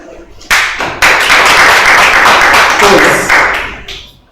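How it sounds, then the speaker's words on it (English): A small audience at a business clinic session claps, close and fairly loud, with a few abrupt restarts in the clapping over about four seconds before it tapers off. "I think you deserve a round of applause."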